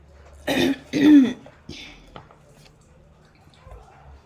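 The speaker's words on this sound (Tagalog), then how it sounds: "May ubo ako." A woman in a garden setting coughs twice in quick, loud, phlegmy bursts, followed by softer throat noises and quiet background.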